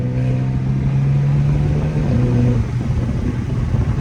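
Stage 2+ tuned BMW F30 with raised burbles, heard from inside while driving: a steady, loud low engine drone with a shift in pitch partway through and a rumbling burble underneath.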